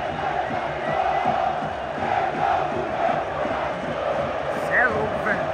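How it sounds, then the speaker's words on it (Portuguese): Flamengo fans chant at Morumbi stadium during a cup final against São Paulo, a dense crowd roar with rhythmic singing that carries steadily throughout, while someone talks close by over it. "Olha a torcida do Flamengo"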